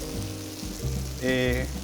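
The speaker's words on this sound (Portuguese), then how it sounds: "Aqui, ó, ele já está em fase de fritura." Food frying in a dry, hot pan with a steady crackling sizzle throughout, joined near the end by a brief higher clatter of stirring, with no talking.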